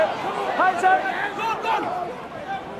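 Crowd of around 4,000 at a rugby match between Celtic Warriors and Munster cheering a drop goal, a steady roaring wash of voices with excited shouts rising throughout.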